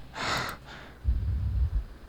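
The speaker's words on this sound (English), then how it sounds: "That's breathing." A close, breathy inhale and sigh from the visual novel game Doki Doki Literature Club, followed by a low, soft rumble, heard alone without talk.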